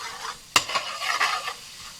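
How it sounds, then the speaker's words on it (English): Garlic ginger paste hits hot oil for a chicken jalfrezi, a short sharp sizzle and crackle with stirring scrapes in the pan, close and fairly loud. "a teaspoon of garlic ginger paste. Can you hear that sizzling?"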